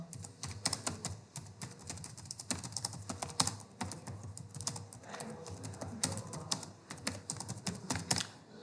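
Fast, continuous typing on a computer keyboard, close and crisp, with irregular rapid key clicks throughout and no voices.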